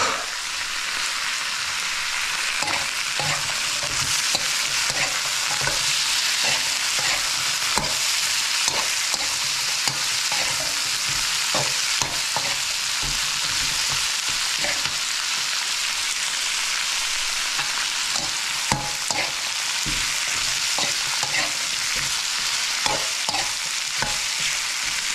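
Sweet potato (kamote) sautés for Ilocano pakbet in a pan, giving a loud, dense, continuous sizzle with frequent scraping and tapping from a spatula throughout, and no talk.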